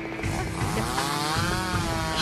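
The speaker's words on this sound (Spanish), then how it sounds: "Ahora tenemos que hacer que se le apague la motosierra para poder seguir." Chainsaw from the video game Mad Father Remake, a loud, steady revving drone with a harsh buzzing whine that holds throughout without a break.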